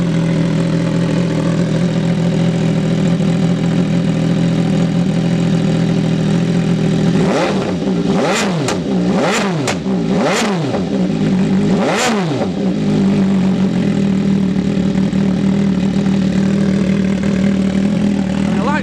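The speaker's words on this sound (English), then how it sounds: "Okay, so this bike's about to be fired up." Motorbike fitted with an SC Project exhaust, loud and close, idling steadily and then blipped through about five sharp throttle revs that rise and fall before it settles back to a rumbling idle.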